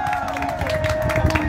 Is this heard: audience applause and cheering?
yes